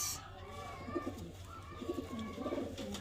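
Soft, low pigeon coos in short rolling bursts from a bird in a home loft, fairly close but quiet against a faint background hum, with no speech.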